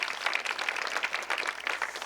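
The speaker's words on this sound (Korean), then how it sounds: "우리 뜨거운 박수로 우리 환영해 주셨으면 좋겠습니다." Congregation applauding in welcome for church visitors during a Sunday young adults' worship service, a dense, steady wash of many hands clapping at moderate distance with no voices over it.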